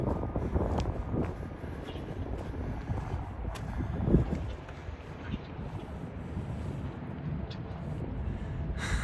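Wind blows across the microphone in a park in Lexington, Kentucky's Distillery District, a steady low rumbling buffet with gusty swells that fills the whole stretch and carries no voices.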